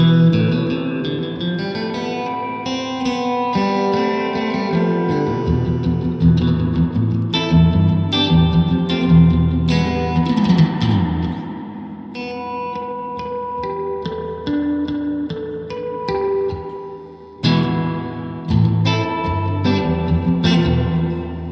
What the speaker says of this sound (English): Let's crank that reverb.